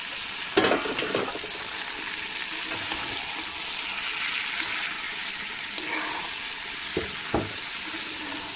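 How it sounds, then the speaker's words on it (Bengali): Noodles are stir-fried with fried spices in a pan, making a continuous close sizzle with occasional scraping and clattering stirring strokes, and no talk. "এই যে মশলা ভাজা হয়ে গেছে, এখন নুডলস দিয়ে দিতেছি।"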